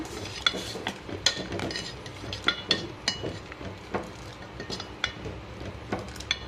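A spoon stirs drumstick sambar in a pot after coriander leaves go in, giving soft scraping and clinking against the metal in an irregular rhythm, close and fairly quiet with no talk.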